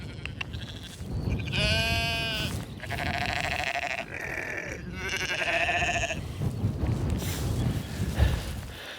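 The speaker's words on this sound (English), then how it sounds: "Sheep are so funny, man." Several sheep bleat close by on open ground in Shetland, loud wavering calls coming in separate bursts and overlapping, with wind noise between them.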